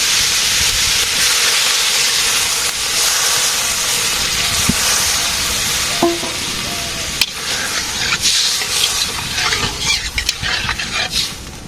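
Broth poured into a hot pan sizzles and steams in a steady, loud broadband hiss that lasts throughout, with a few faint clinks and bubbling pops toward the end.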